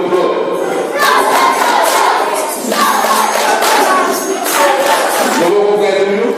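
A church assembly roars with loud, sustained crowd acclamation, voices shouting and cheering together in surging waves, close and continuous.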